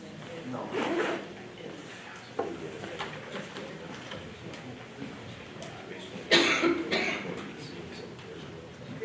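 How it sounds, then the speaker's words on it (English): A few separate coughs break the quiet at a board of trustees meeting, one early, another midway and a sharper burst later, against a faint room background. "Cough, cough, cough. It's fine."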